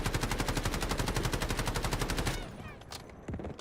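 Full-auto AKM rifle with no attachments in the shooter game Delta Force: a long, loud, evenly spaced burst of rapid shots for over two seconds, then a few sparse trailing shots and the clatter of the weapon afterward.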